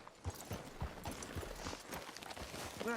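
Steady clip-clop of horse hooves at a walking pace in the video game Red Dead Redemption 2, fairly close, continuing through the whole stretch with no voices.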